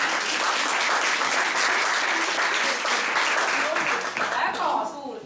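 An audience at a village dance party applauds, dense sustained clapping filling the room for several seconds before thinning out near the end.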